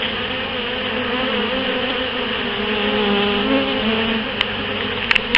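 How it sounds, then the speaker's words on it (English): Honeybee swarm buzzing around a caged queen, a dense continuous drone of many wings close by, steady and loud throughout with a few faint clicks near the end. "they would swarm around the actual queen clip, but swarming up above them"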